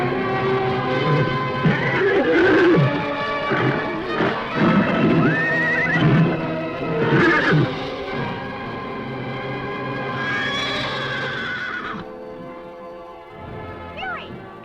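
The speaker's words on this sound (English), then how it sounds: "The white horse! It's Joey!" A white horse whinnies repeatedly in a 1950s western television drama. The loud, shrill neighs come with hoof clip-clop and dramatic orchestral music underneath, and a final whinny rings out as the music fades.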